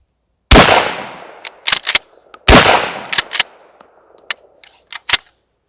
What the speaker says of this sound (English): And we'll fire a couple of shots